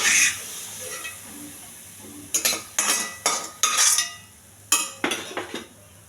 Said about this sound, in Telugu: ఈ వేగిన క్యారెట్ అంతా ప్లేట్లో తీసుకోవాలండి